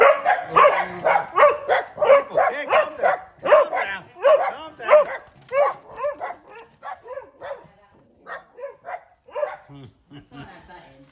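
Several dogs let out into a home kitchen bark and yip in quick, repeated bursts, loud and close at first and then thinning to sporadic yelps, while someone talks over them.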